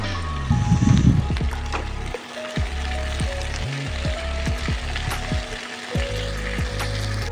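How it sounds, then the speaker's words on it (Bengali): Shredded cabbage fries in oil while being stirred, a loud sizzle broken by repeated scraping knocks of the spatula against the pan in an uneven rhythm. "বাঁধাকপিটা একটু তেলের মধ্যে নেড়ে নেবো"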